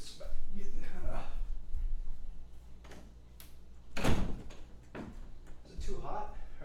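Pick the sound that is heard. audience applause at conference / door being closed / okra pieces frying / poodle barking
door being closed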